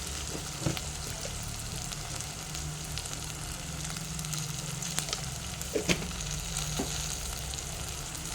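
Mutton curry with turmeric fries in a pan, making a continuous close sizzle broken by a few sharp scraping stirs and spatters, with no voices.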